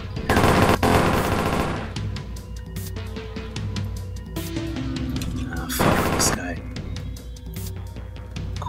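Enemy gunfire rattles in bursts in the video game Ronin, with dense machine-gun volleys near the start and again later, interspersed with single shots, while someone talks over the fighting.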